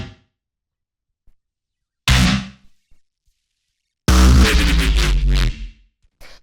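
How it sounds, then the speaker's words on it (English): Layered neurofunk background bass sounds built from Ableton instruments: a short growling burst, then a longer, louder, dense distorted bass swell with heavy low end, separated by silence. "Then we have sort of like these background bass sounds,"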